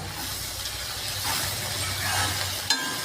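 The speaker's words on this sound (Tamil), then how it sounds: "இடையிடையே இப்படி கலந்து விட்டுட்டே தான் இருக்கணுங்க" Small onions frying in a pan while being stirred for rasam and poriyal, a steady close sizzle and hiss with a faint utensil clink near the end, no talking.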